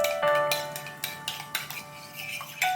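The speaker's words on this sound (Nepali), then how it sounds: "पहिला अन्डा फुटाएर मैले यसरी एउटा बोलमा फिट्छु" Cracked eggs are beaten in a bowl for egg noodles: a quick run of light metallic clinks and taps, fairly close, with no voices.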